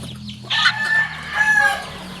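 Chickens cluck and squawk nearby in short bursts at feeding time over a low background hum, with a few sharper calls rising above the rest.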